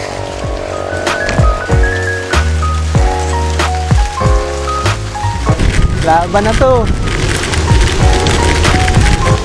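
Heavy rain pours down during a bike ride at Mataas na Kahoy while riders shelter, a steady hiss over the whole stretch. Tonal sounds run underneath, and people talk throughout.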